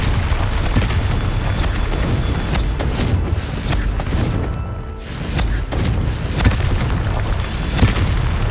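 A Confringo fire spell explodes in Hogwarts Legacy, a loud, dense blast of rumbling booms and crackling that fills the whole stretch, dipping briefly midway before surging again.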